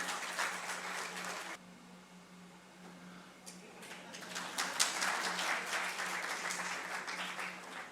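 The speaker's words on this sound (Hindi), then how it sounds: "बट आप ताली बजाएंगे तभी पता चलेगा" An audience at a school alumni gathering claps, fairly faint at first, dropping off briefly, then swelling into longer, fuller applause for several seconds.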